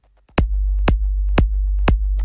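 Sub bass line sitting at G0, dropped one octave, gives a deep continuous low rumble, with four sharp, evenly spaced punchy hits landing over it at a steady beat; no voices.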